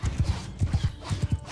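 Horse archers' hooves clip-clop in a steady galloping rhythm, with a faint whinny, during a battle in the video game Mount & Blade II: Bannerlord; the hoofbeats are close and moderately loud.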